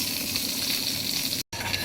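Steady loud sizzling of curry leaves frying in hot oil for a tempering, a continuous crackling hiss that briefly cuts out near the end, heard up close.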